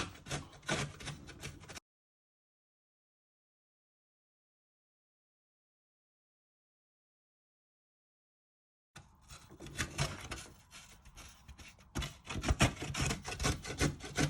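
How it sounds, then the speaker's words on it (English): Food is grated on a hand grater in quick, close rasping strokes, broken by a long silent gap before the rhythmic scraping resumes. "You want to get the grater. And you just want to finally grate it."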